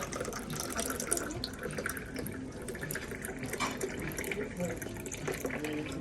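Water runs steadily from a tap or is poured at a hotel breakfast buffet for lemon water, a continuous splashing trickle of moderate loudness lasting throughout, with people talking faintly in the background.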